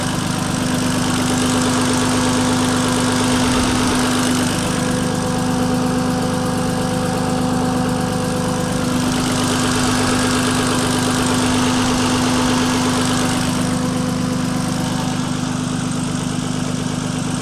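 A turbocharged BMW E46 with a blown engine idles close by, giving a steady low drone with a humming tone. Faint knocking and vibration run through it without a break.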